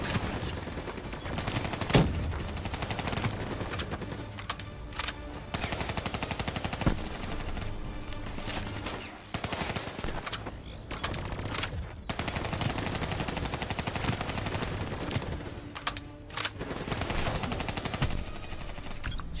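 Turret machine gun in Call of Duty: Black Ops III blazing in long sustained bursts with brief pauses between, loud and close, backed by battle noise.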